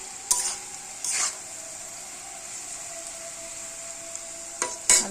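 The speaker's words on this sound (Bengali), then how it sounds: "দেখো বন্ধুরা, আলু ভাজাটা কিন্তু আমার প্রায় হওয়ার মধ্যে।" Potatoes fry in a pan seasoned with salt and turmeric, giving a soft continuous sizzle. A few sharp bursts of stirring clatter as a utensil scrapes the pan, with quiet stretches between them.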